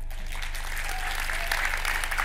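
An audience at a city award gala in Bolesławiec claps steadily, a dense, even patter of many hands that carries on without a break, with no voices over it.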